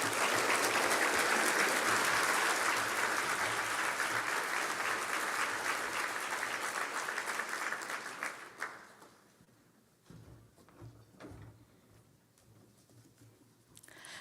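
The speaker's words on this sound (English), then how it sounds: "we're going to give them a round of applause" A large audience at a medical school Match Day ceremony applauds doctors, dense clapping filling the room for several seconds before fading into quieter scattered claps.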